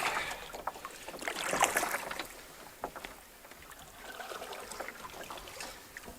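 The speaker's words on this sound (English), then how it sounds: "We are in the boat on West Bear Lake." A boat glides across West Bear Lake with soft splashing and rippling against the hull, quiet and steady, no talking.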